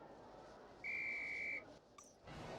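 Madam Hooch's referee whistle in a Harry Potter flying-lesson game blows one steady, shrill, pure-toned blast of under a second over quiet background ambience, followed by a faint brief effect.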